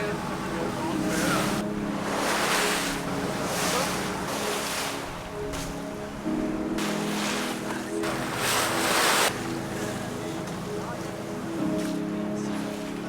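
Waves wash and surge rhythmically around a boat at sea off Silhouette Island, Seychelles, at sunset, with a constant engine hum and wind noise underneath.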